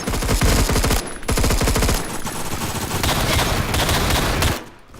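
Assault rifle fire in the Roblox shooter Phantom Forces, loud rapid automatic bursts of tightly spaced shots with short pauses between them, ending abruptly, with no talk.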